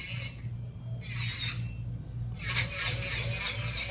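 An electric nail drill bit files a fingernail with a soft, close grinding rasp. A low motor hum runs in pulses beneath brief bursts of abrasive scraping, with no voices.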